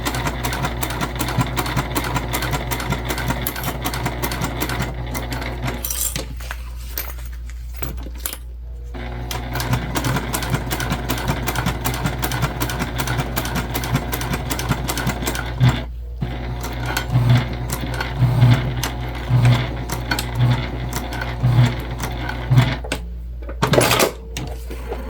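A sewing machine stitches bag pieces together with a steady, loud mechanical whir and rapid needle clatter, running almost continuously with a couple of brief pauses.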